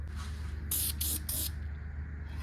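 Three short bursts of spray paint hiss from an aerosol can onto Ford 351 modified two-barrel cylinder heads for a 1978 F100, loud and close over a steady low hum.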